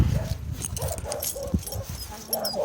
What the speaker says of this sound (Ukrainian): Оті собаки, те все, воно ж мене доведе до гріха